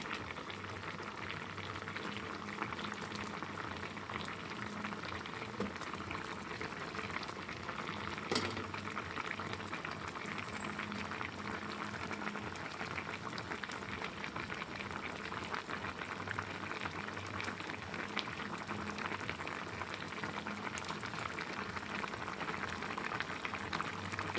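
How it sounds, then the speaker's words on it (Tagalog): Paksiw na tilapia with okra and eggplant simmering in a covered pot, a soft steady bubbling and faint hiss that continues evenly and alone throughout. "Takpan po natin uli. Pakuluin po muna natin ng mabuti."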